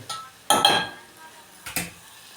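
Girvi is roasted and stirred in a pan with salt, heard as a few distinct metal spatula scrapes and clinks against the pan separated by quiet gaps, close by.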